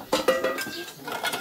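Metal spoons clink and rattle against dishes in a quick cluster of bright taps, close by, with faint background voices.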